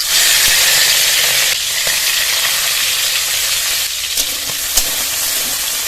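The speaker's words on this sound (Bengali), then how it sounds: "গরম কড়ায় সাদা তেল দিয়ে দেবো, চিংড়ি মাছগুলো জল ঝরিয়ে দিয়ে দেবো" Shrimp frying in hot white oil in a wok make a loud, continuous, close hiss and sizzle that stays steady for the whole stretch, with no voices.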